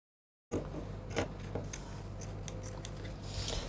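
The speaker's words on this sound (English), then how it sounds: "So from here I will just start cutting from about ½ inch below." Scissors snip through fabric for a bubu dress in a string of crisp, close cuts over a low steady hum, with no voices.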